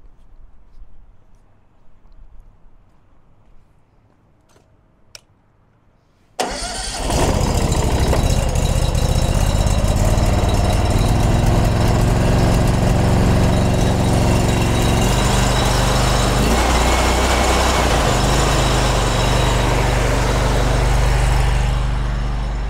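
A pressure cleaning system's engine starts abruptly after a quiet stretch, then runs loud and steady, a continuous mechanical drone with a shift in pitch partway through, beside a 42-foot telescopic pole setup.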